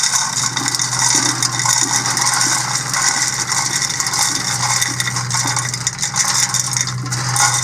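Wood pellets pushed out of a Pit Boss grill hopper into a bucket make a continuous loud, close rattling and scraping clatter over a steady low hum, with no voices.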